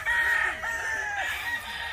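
An F1 Sweater gamefowl rooster crows loudly and close by, one long drawn-out cock-a-doodle-doo filling the moment, with a faint second crow in the background and no talk.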